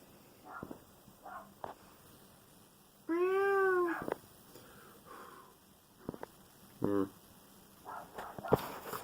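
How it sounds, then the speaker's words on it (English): A cat gives a clear meow, followed by a second shorter meow a few seconds later, with quiet rustling and faint sounds in between. "We got the fuzzy cat there."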